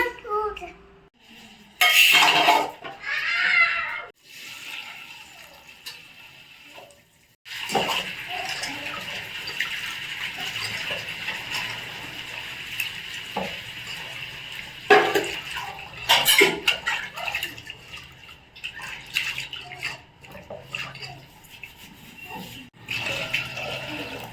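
Toor dal lentils are washed in water in a kitchen, with splashing and rinsing bursts, running water and small clinks of a vessel, while a person talks over parts of it.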